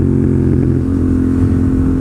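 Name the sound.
motorcycle engine rev-matched downshift from 4th to 3rd gear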